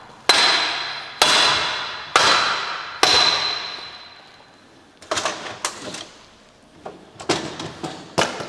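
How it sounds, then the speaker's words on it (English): Several metal hammers drop onto a hard workshop floor while a Lamborghini and Audi R8 gearbox is being dismantled: four loud ringing clangs decay one after another, then a scatter of lighter clattering knocks. "I dropped my hammers."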